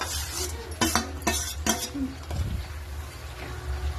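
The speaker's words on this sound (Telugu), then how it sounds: "రొయ్యలకు పట్టేలా మొత్తం మిక్స్ చేసుకోవాలి" A spoon stirs fried prawns into ground spice powder for prawn pickle, giving several quick metallic scrapes and clinks against the pot with a soft low rumble underneath.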